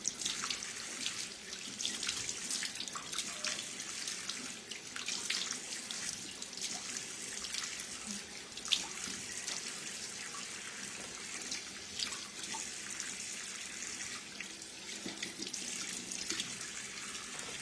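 A tap runs steadily while someone washes their face at a sink, giving a continuous close splashing hiss with small drips throughout and no talking.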